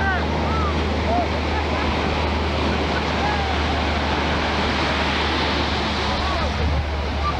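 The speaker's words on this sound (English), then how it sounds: "God, these waves are so awesome." Ocean waves break and surge onto a sandy beach in a constant roaring wash with wind buffeting the microphone, loud and close, with a faint low hum underneath.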